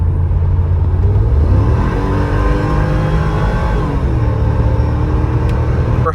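A 2010 Mercedes-AMG G55 with the M113 V8 revs under light throttle, producing a loud, steady, close engine roar for several seconds and no speech.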